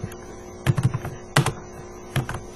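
Keystrokes on a computer keyboard while writing C++ code, arriving as a few short clusters of clicks with pauses between, close and moderately loud over a faint steady hum.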